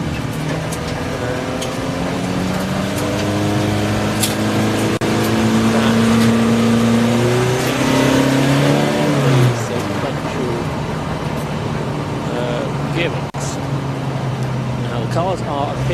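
Race cars at Brands Hatch Indy roll to the grid for a 750MC Roadsports event, engines droning and revving at varying pitches, some passing near, while a commentator talks over them.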